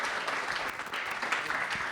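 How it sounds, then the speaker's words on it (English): An audience at a book event applauds in a dense, continuous patter of clapping that stays fairly quiet and even across the short stretch. "can we give a round of applause to this brother again"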